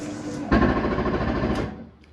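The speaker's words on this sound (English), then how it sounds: "All it is the slide keeping itself from coming in too far." The slide-out on a Jayco Bungalow 40FKDS RV retracts with a loud motorized whir and grinding hum that starts abruptly, holds steady as the stop mechanism engages, then winds down near the end.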